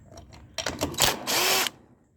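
DeWalt power drill with an 11 socket loosening trailer brake light fasteners, a couple of short quick bursts followed by a louder sustained whir of about half a second, close and alone.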